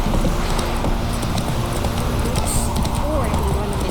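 Horse hooves clip-clop at a steady trot in the Witcher 3 video game, a continuous rhythmic patter mixed under game audio and a voice.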